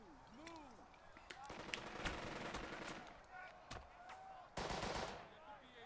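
Machine gun fire in a World War II tactical video game, with bursts of rapid shots amid other game sounds and music, moderately loud, a speaking voice mixed in.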